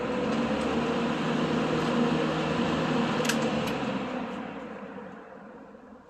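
A Kenmore 14-inch box fan with a stamped steel one-piece blade set runs on high speed with a steady, broad rushing whoosh of air, loud and close, easing off slightly toward the end.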